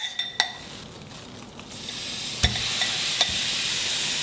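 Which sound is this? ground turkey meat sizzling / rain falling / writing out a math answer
ground turkey meat sizzling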